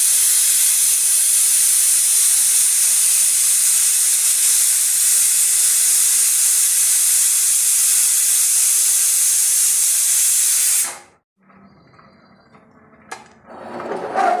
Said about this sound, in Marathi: तर कुकरला 3 शिट्ट्या झालेल्या आहेत